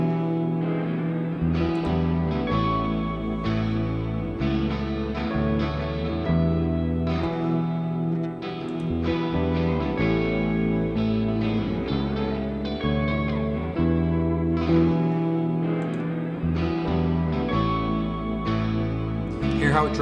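Bass guitar with added distortion grit, playing a steady sustained line loud in a full band mix with drums and other instruments, the overdriven edge adding buzz across the whole passage.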